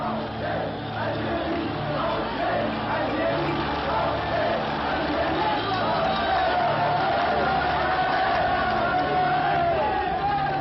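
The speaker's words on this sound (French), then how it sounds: "il laisse délibérément la foule des Algérois en colère prendre d'assaut le bâtiment du gouvernement général" An angry crowd of Algiers residents storming the government building, a steady, loud, massed roar of many voices shouting and bellowing together without a break.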